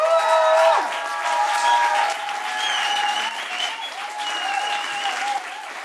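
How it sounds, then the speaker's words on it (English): An audience at a Palestine fundraiser festival of talks and poetry gives a warm round of applause, loud and sustained clapping from many hands, with faint tonal whistles or cheers threaded through and a slight easing toward the end. "Please give him a warm applause."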